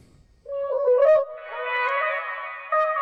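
A chopped vocal phrase from a beat: a short pitched sung fragment enters after a brief quiet start, then a longer sustained, layered vocal tone holds steady through the end, loud and close with no talking.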